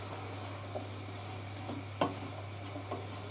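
Leeks and potatoes stirred in a pot, a few soft scraping and knocking strokes of the spoon over a quiet low sizzle and a steady background hum.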